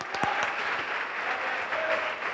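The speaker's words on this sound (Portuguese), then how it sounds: "Aplauda a Jesus essa noite." A church congregation applauding during an evening service, a full, even roar of many hands clapping at close range, steady and loud from start to finish.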